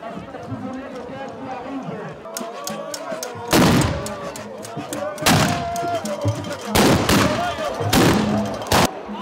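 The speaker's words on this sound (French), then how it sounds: "Des salves de coups de fusil sont déchaînées et le chant de victoire appelé Ngu exécuté." Ceremonial rifle volleys ring out at the Bamoun Nguon cultural festival in Cameroon, several loud, sharp bursts spaced a second or two apart amid crowd noise and a talking voice.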